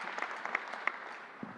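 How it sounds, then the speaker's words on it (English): A small audience applauds nurses and staff at a COVID vaccination briefing with sparse, individually distinct claps, fairly faint and fading out within a couple of seconds. "Let's give them a round of applause and thank them for everything they're doing."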